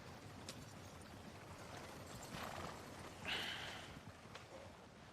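Horse hooves clip-clop steadily at a walking pace in the Red Dead Redemption II video game, moderately close, with a brief whinny near the middle and no talk over it.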